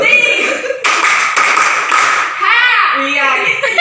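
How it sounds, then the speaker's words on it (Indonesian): A group at an indoor training session performs a rhythmic clapping pattern in unison, with crisp repeated claps mixed with shouted group voices. "Tepuk 3."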